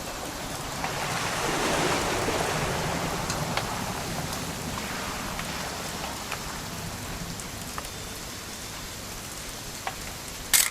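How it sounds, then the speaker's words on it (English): Steady rain in the video game What Remains of Edith Finch, a dense, even hiss of falling drops with occasional sharper droplet ticks, continuous and fairly loud throughout with no voices. "It's gonna rain the whole weekend,"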